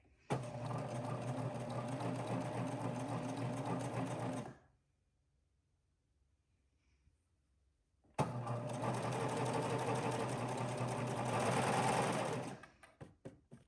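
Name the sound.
sewing machine stitching along a curve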